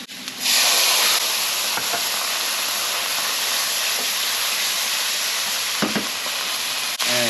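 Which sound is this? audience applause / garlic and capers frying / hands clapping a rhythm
garlic and capers frying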